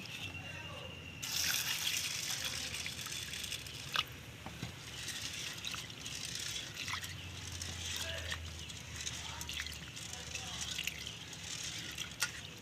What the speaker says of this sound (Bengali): এবার আমি ডালটা ধুয়ে নেব।